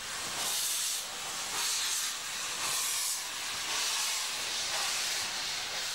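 A steam train leaving Wernigerode station in the Harz mountains, releasing a loud, continuous hiss of steam that surges in slow, rhythmic waves, heard alone with no talk.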